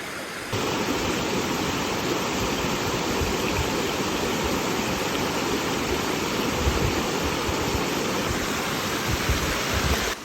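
Mountain river in the Vercors rushing steadily over rocks, a loud, continuous broadband wash of flowing water that holds constant throughout with no voices.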